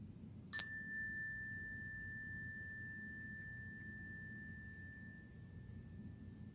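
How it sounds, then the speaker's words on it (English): A single bright bell strike rings out clearly, its pure tone sustaining and slowly fading over several seconds against a quiet low rumble. "I have a special bell with me today."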